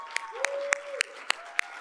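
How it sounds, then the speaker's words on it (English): A handful of evenly spaced hand claps at a community campaign kickoff event, sparse and steady rather than full crowd applause, with a voice running faintly underneath. "We can clap, yes."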